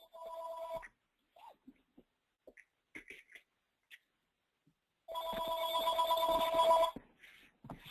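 Mobile phone ringing with a bright electronic tone in two bursts, a short one at the start and a longer, louder stretch later, with sparse faint sounds in the quiet between.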